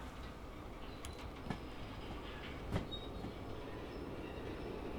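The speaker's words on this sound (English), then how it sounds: "as you hear the distant roar of diesel electric" A diesel-electric locomotive in the train game Derail Valley rumbles steadily at a distance, a low continuous roar with a few faint clicks and squeaks from the rails.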